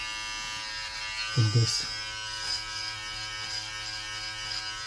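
A Brightup rechargeable hair clipper and beard trimmer runs with a steady electric buzz throughout, with a brief louder burst of contact near the middle while someone talks over it.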